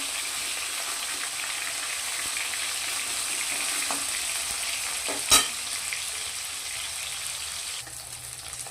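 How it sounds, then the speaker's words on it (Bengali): Pieces of katla fish fry in hot oil with a continuous, even sizzle, and one sharp clatter marks the fish being flipped in the pan. "মাছগুলো এক পাশে ভাজা হয়ে গেছে, আমি এবার উল্টে দিচ্ছি"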